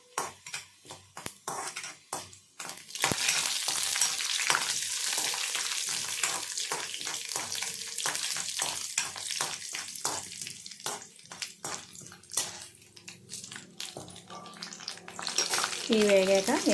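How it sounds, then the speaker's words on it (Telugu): Urad dal, mustard seeds and cumin crackle as they hit hot oil for a tempering, a dense continuous sizzle with scattered pops and stirring clicks, following a few moments of brief talk. "ఇప్పుడు పోపు దినుసులు వేస్తాను నేను."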